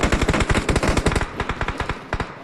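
Rapid automatic gunfire from a shooter video game rattles off in quick, close bursts, a dense run of sharp shots that thins out and slows toward the end.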